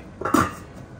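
A metal pot lid set onto a cooking pot of leek and potato soup, one brief clanking contact with a short metallic ring, close and alone.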